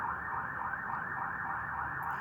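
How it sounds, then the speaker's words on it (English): An ambulance siren wails outside at a distance, a faint, steady rise-and-fall tone heard alone. "I'm assuming it's an ambulance."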